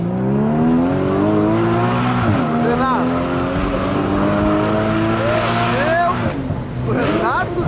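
A car fitted with a Porsche exhaust pipe accelerates close by, its engine note rising and shifting through several gear-like sweeps over a steady loud roar, with people talking over it.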